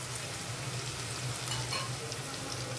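Garlic frying in oil, a dense steady sizzle with faint stirring scrapes, close and continuous with no voices.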